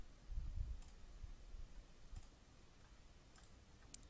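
A computer mouse clicks quietly and close-up several times at irregular intervals while modeling in CAD software, with faint low rustling near the start.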